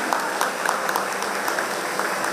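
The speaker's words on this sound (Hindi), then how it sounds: "एक बार जोरदार तालियां।" Guests at a 50th wedding anniversary celebration give a round of applause, a steady crowd clapping with a few sharper individual claps standing out, continuing throughout.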